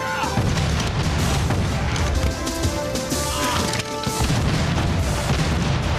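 Ship cannons firing with red-hot shot in a cartoon pirate sea battle, a dense, loud rumble of booms and crashes filling the scene continuously with a musical score underneath.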